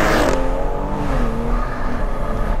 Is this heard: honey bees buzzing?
no